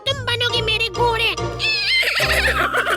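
A cartoon character whinnies like a horse in a high, wavering voice imitation, with other voices talking and faint jingling in the background.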